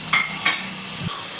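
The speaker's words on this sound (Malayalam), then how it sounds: "പിന്നെ പച്ചമുളക്, ഇഞ്ചി, വെളുത്തുള്ളി, പിന്നെ വേപ്പില. എന്നിട്ട് ഇതെല്ലാം നന്നായി വഴറ്റുക." Green chili, ginger, garlic and curry leaves with chopped onion sauté in hot oil for a coconut-milk pearl spot fish curry, a steady close sizzle broken by two quick stirring scrapes.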